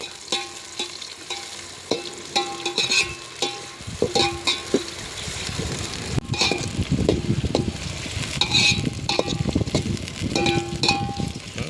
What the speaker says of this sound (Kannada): ಈಗ ಮೊದಲೇದಾಗಿ ನಾವು ಈರುಳ್ಳಿನ ಕರ್ಕೊತಾ ಇದೀವಿ ಫ್ರೈ ಮಾಡ್ತಾ ಇದೀವಿ